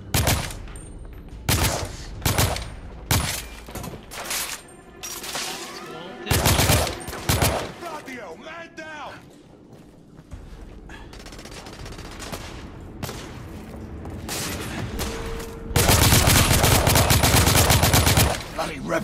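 Enemy gunfire in The Order 1886 comes as repeated loud bursts of shots and rattling automatic fire with uneven pauses, then a sustained heavy volley near the end.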